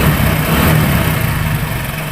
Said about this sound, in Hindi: अभी ये बाइक स्टार्ट है